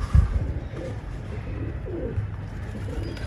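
Pigeons coo softly in low, rolling calls over a faint background rumble.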